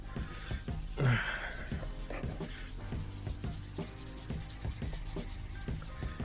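A rag rubs Blue Magic restorer onto a car headlight in circles, producing faint, repeated soft scrubbing strokes in a quiet room.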